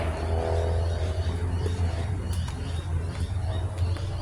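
A car drives on the road below, a steady low rumbling engine sound with faint bird calls on top, filling the scene continuously beside a native plant reserve.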